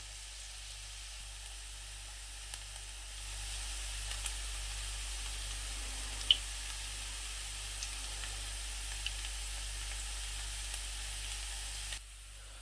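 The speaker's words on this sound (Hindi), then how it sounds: "मैं प्याज को ब्राउन करता हूँ" Onions fry in a pan, giving a faint, steady, even sizzle with occasional small pops, with no one talking.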